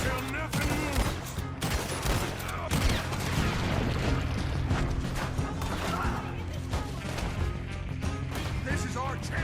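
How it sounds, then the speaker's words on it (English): A chaotic shootout in Red Dead Redemption 2, with dense rapid gunfire and cracking impacts throughout, loud and close, mixed with shouting voices. "Just keep shooting till nothing moves."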